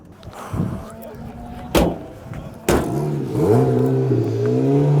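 A tuk tuk drives off after a couple of sharp clunks, its small engine revving up into a steady rising drone heard close from inside the cab.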